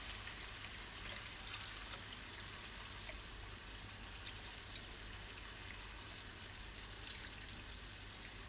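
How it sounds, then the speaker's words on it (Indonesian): A little water poured into a pan of chicken simmering with sweet soy sauce, giving a steady, close, sizzling trickle with light spattering that runs evenly throughout, alone with no talk. "Sedikit air."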